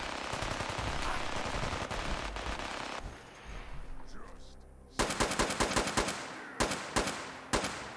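Fast automatic gunfire from the companion Strong in Fallout 4 rattles loudly in a dense stream, breaks off briefly, then resumes as separate sharp single shots spaced out toward the end.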